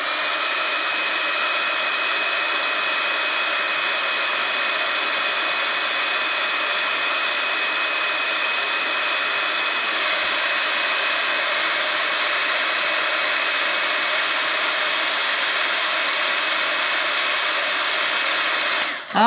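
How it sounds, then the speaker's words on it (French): An embossing heat gun blows steadily over ink during card crafting, giving a loud, continuous whirring rush with a slight shift in tone midway and no voices, cutting off abruptly at the end. "comme je vais faire le pistolet embossé, je vais faire un peu de bruit"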